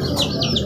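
Racing pigeons come in at the loft trap during a fun race in Leyte, with short chirping calls over steady background noise, close by and moderately loud.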